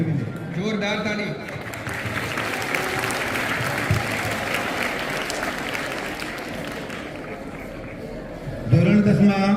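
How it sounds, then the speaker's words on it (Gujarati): Loud sustained applause from a school crowd at a Republic Day prize-giving ceremony for a top-ranking student, clapping steadily for several seconds with voices around it before fading. "જોરદાર તાળી"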